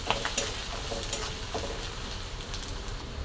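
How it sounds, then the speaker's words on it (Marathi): Onion and red chili masala being stirred in a hot pan with softened onion for a matki bhaji, a steady sizzle with scattered scraping and clicking spoon strokes throughout, close and without talk. "कांदा मसाला टाकते बघा थोडंसं आपला लाल तिखट मसाला बरोबर पण असं मिक्स करून घेतात"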